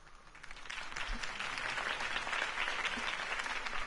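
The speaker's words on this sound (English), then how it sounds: "If only Mr. Wayne, my campaign's largest backer, could have heard that applause" A crowd applauds after Harvey Dent's campaign speech in Batman: The Telltale Series. The clapping is steady and dense, swelling slightly in the first second and then holding loud and even throughout.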